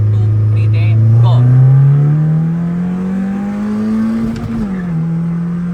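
Car pulling hard in second gear along Mexico City Road in Lahore: a loud, close engine drone climbs steadily in pitch for several seconds, then dips briefly before settling again.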